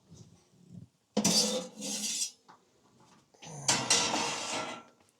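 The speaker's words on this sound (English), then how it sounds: "cast iron's been heating up at 425 for just over 30 minutes. And use my oven gloves to pull it out." A hot cast iron pan is pulled from an oven at an off-grid campsite: metallic clanks and scraping bursts with a couple of louder clattering impacts, close and separated by short quiet gaps.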